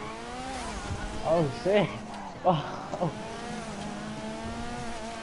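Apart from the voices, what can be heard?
car accelerating with tire squeal in GTA V video game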